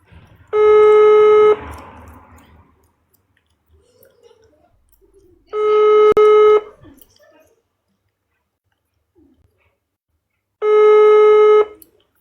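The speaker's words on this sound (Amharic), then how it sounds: "ስልኳ ግን እየጠራ ነው ውዶች።" A telephone ringback tone sounds three times in long, evenly spaced bursts, with faint background noise between rings.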